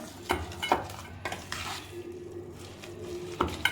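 Soft sizzling under repeated scraping and clinking of a utensil against a pan as potatoes are stirred, a few quick stirring strokes close by, no speech.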